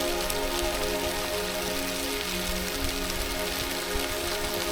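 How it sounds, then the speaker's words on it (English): Steady icy patter of sleet on a surface, a constant soft hiss with occasional tiny clicks, no voices. "That sound you're hearing is sleet."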